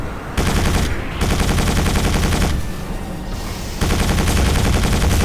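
Rapid bursts of enemy automatic gunfire in the dark shooter game Quake 4, loud and continuous with brief dips between volleys, alone with no talk.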